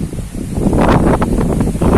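Strong wind gusting under a darkening sky, buffeting the microphone in loud, rumbling surges with rustling, continuous throughout.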